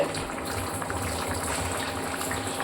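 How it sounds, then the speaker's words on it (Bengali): Jackfruit curry bubbling in a pan on a gas stove, a steady, dense bubbling and hissing that stays even and close throughout, with no talking. "দেখুন তরকারিটা ফুটে গেছে"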